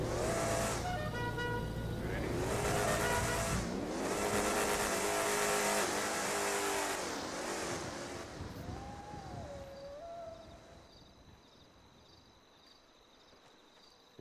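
Game cars in GTA V accelerate off the line in a drag race, engines revving loudly through rising gear shifts with a horn toot early on, then fading into the distance as the roar dies away.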